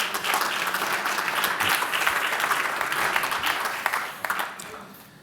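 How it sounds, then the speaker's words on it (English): Audience applause fills a conference hall as speakers are welcomed onto the stage, steady dense clapping throughout that thins slightly near the end. "Please welcome them up here on the stage with me right now with a round of applause."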